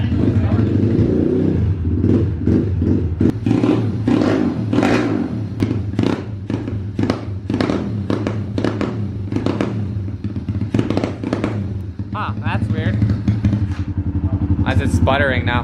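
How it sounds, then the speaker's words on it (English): A snowmobile engine idles and revs in cold-weather prep, with a steady, loud, rumbling drone rising in repeated surges while people talk over it throughout. "let it idle up, rev it up, and then we'll compare the built versus the stocks"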